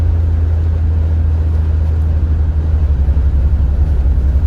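Tires drone over rumble strips on a snowy road, a loud, low, continuous vibrating rumble heard from inside the moving car with a steady rolling pulse.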